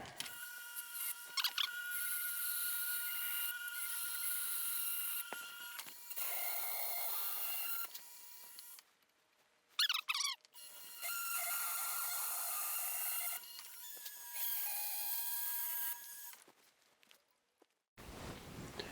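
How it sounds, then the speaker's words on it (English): A Dremel rotary engraving tool cuts into a small tool box drawer handle with a loud, high whining buzz. It runs in several long bursts with short pauses and small scratchy touches between them. "I've got my little engraving tool and my Dremel."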